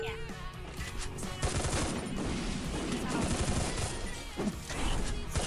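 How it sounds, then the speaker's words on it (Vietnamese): Close-range bursts of XM8 assault rifle fire in the Free Fire battle royale game, loud rapid volleys crackling continuously over in-game effects and impacts. "Sử dụng X-M8 bắn tầm gần mà ác thật"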